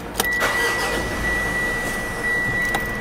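A Mitsubishi Montero GLX SUV with a manual gearbox idles steadily just after starting, in neutral with the clutch pressed, giving a close, even engine hum with a faint high whine.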